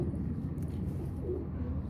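Soft, low pigeon cooing murmurs steadily against a dull background hum, close but quiet, with no voices.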